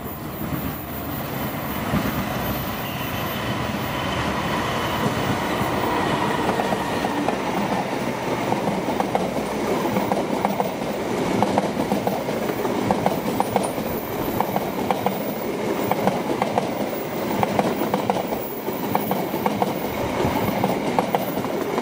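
Indonesian passenger train PLB 38A passing close by at Bekasi Timur, a loud, steady rumble of rolling cars with rhythmic clickety-clack from the wheels that holds throughout, with no voices.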